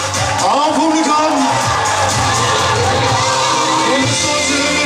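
An audience at a youth under-14 handball championship final medal ceremony cheers, whoops and shouts loudly and steadily, a full hall of voices sustained for several seconds.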